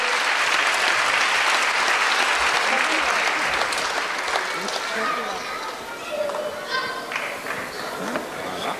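An audience at an awards ceremony applauds loudly, with dense clapping at full strength that gradually thins and fades toward the end while a voice speaks under it.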